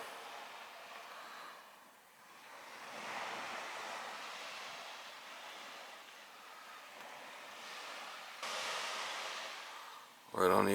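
Ocean waves rolling onto the beach at South Yarmouth in the early morning, a soft continuous wash of surf swelling and easing, faint and distant, with wind rumbling on the microphone and a sudden louder noise at the very end.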